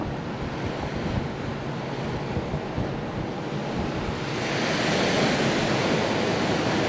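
Ocean waves roll in at Ocean Park beach in Puerto Rico, heard from near the shore as a steady, broad surf wash that swells louder partway through, with no voices.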